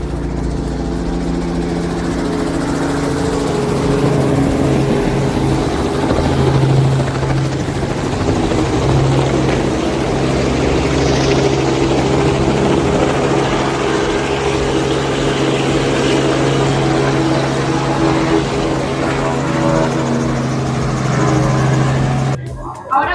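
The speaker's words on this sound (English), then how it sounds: "we are taking a helicopter over Barcelona" Loud, steady helicopter rotor and engine drone heard from inside a helicopter flying over Barcelona, continuous throughout with a constant low throbbing hum.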